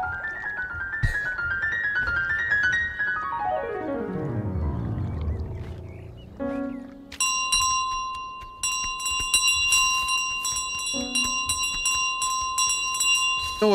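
Bell ringing in Untitled Goose Game, bright metallic tones with lingering overtones, then repeated sharp chimes in the second half, with no talk.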